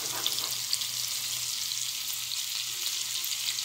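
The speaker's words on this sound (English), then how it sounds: "scrape it up just a little bit, drop that into the bacon fat." Sliced onion fries in hot bacon fat in a pan, giving a steady, close, crackling sizzle with no speech throughout.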